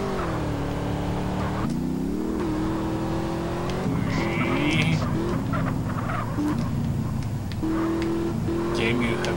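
A car in GTA San Andreas driving up a spiralling helix ramp, its engine droning and revving in rising, shifting tones with tire squeals, while someone talks over it throughout.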